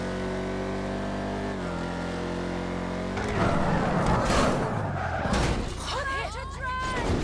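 A sports car engine in GTA 5 Online holds a steady loud drone, then surges and revs with rising and falling pitch amid crashing and road noise from the game.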